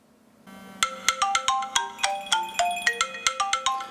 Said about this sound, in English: My iPhone is also ringing